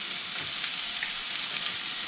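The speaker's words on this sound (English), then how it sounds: "we're just going to start sauteing this until we get it nice and caramelized" Chopped onion sautéing in a hot pan, a steady dense sizzle and crackle of frying that holds close and even throughout, with no talking.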